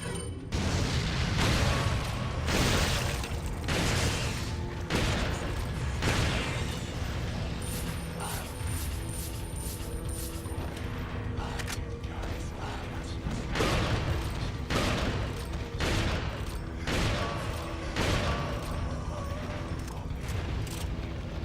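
Incendiary grenades and gunfire in Resident Evil 4 (2005, PC) make repeated booming blasts and sharp bursts in a dense, loud barrage over a constant game soundscape.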